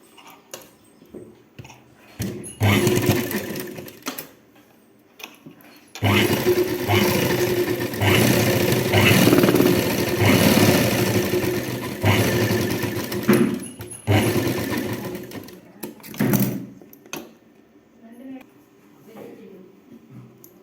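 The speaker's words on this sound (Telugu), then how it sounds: "కాజాలు పెట్టి కుడుతున్నాను" A sewing machine stitches buttonholes on blouses, running in a long steady whirring burst with shorter bursts before and after, close by, with someone talking in between.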